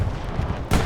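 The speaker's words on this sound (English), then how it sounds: "This is really nice artillery from 116." Artillery fire in the Hell Let Loose video game, a rumbling low boom followed by a sharper, louder blast near the end, short and heavy.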